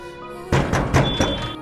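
Someone knocks on a door in a house: four hollow wooden thumps in quick, uneven succession, close and loud, with no talk.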